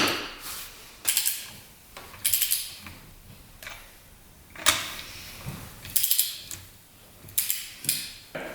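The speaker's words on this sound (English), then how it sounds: "is going to be to loosen all the fasteners until they're unseated" A wrench loosens fasteners on a UTV engine during a rebuild, producing scattered sharp clicks and clunks in irregular bursts, close by, with quiet pauses between them and no voices.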